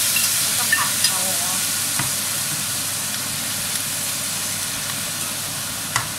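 Pork belly and pickled spider flower stir-frying in a hot pan, giving steady loud sizzling and hissing throughout with occasional scrapes of stirring.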